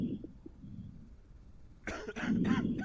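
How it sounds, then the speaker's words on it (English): A video game character's single harsh, loud cough bursts out close by after a quiet stretch of low background hum, in a zombie survival quarantine game. "The guy's coughing, so that's a bit suspicious"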